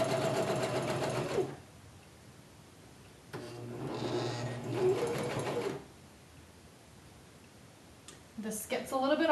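A sewing machine stitches a ribbon hem on a kimono gown in two short bursts of rapid, steady motor whir separated by a quiet pause, close by, with a voice speaking at the end.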